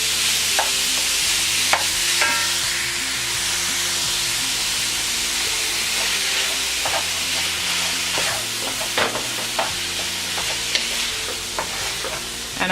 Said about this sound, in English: I'm just giving it a mix to mix the vegetables into the ground beef.